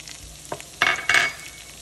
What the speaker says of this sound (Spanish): Ya que se deshizo la mantequilla, le vamos a poner el cuarto de cebolla y también los tres dientes de ajo.